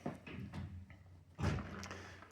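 A drawer of small spares in a bike workshop slides open, giving a soft scrape and a couple of quiet knocking thuds, heard close in an otherwise quiet room.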